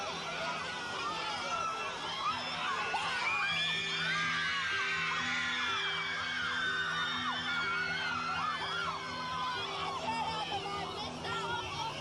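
A crowd of about 7,000 greets a band on their June 1964 arrival in Wellington, New Zealand, with steady high-pitched screaming and whooping from many voices. Background music runs underneath.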